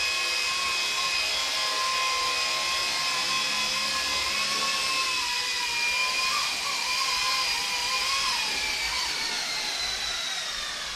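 Budget WLtoys K200 RC helicopter hovering with barometric stabilization and then coming down to land, its steady high-pitched rotor and motor whine continuous and close with a slight pitch wobble, no talking.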